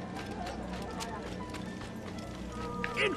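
Rhythmic clip-clop of galloping horse hooves runs steadily beneath a busy Assassin's Creed game soundscape, with a voice speaking over it and a brief chime near the end.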